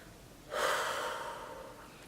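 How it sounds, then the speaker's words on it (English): A pregnant woman in her second trimester, out of breath, lets out one heavy, audible breath that swells suddenly, then fades slowly, close and alone in a quiet room. "I'm out of breath."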